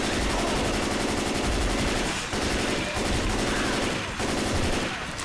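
Dense automatic gunfire from guns in the video game Left 4 Dead 2 rattles continuously in rapid bursts, loud and close with layered shots and brief dips, with no clear talking over it.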